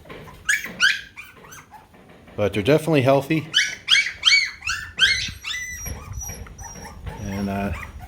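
Puppies whimpering and yipping in a home in the Philippines, a series of high, thin cries and whines in quick bursts, close by, with someone talking between and over them.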